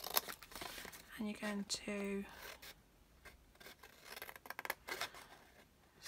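Scissors snip small pieces of paper in a few crisp close cuts with light rustling of card between them, while someone talks quietly over parts of it.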